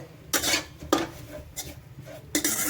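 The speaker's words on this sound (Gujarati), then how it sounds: "તો આપણે આ રીતના આને કડાઈની અંદર છે એ શેકવાનું છે." Scraping strokes of a utensil against a pan, repeated at uneven intervals, with a soft background sizzle between them, as coconut trunk is roasted for a sweet over low heat.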